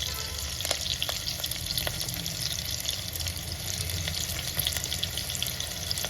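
Asafoetida dropped into hot oil in a kadhai for a ridge gourd bhaji with curry leaves, giving a steady close sizzle and frying hiss with faint scraping of a spoon, no voices.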